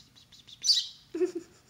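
A pet sparrow that cannot fly gives a short high chirp, then a lower second call, close and fairly soft, in a quiet room after faint earlier peeps.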